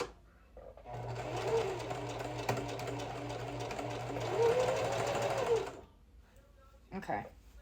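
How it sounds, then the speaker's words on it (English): A sewing machine hems a lined skirt in contrasting thread, a close, fast, steady mechanical whir that runs for several seconds before stopping, with brief talking after it. "I'm going to do the whole thing so that you can kind of see me shifting the fabric and stuff in a higher speed"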